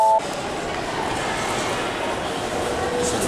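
Sunrise sleeper train in Japan, a steady rumbling rail noise that holds evenly throughout, heard from aboard or close by, with a brief tonal chime at the very start.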